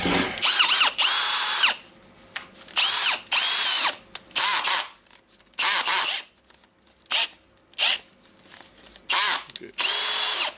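A Milwaukee cordless drill with a worn chuck whirs in repeated bursts of about a second each, spinning up and stopping, with short quiet gaps and faint clicks between runs.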